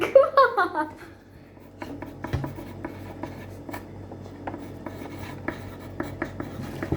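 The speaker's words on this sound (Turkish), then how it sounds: "ben yazıyorum" Pen scratching on paper in a quiet room, a run of short irregular strokes at close range, with a brief voice and clatter at the very start.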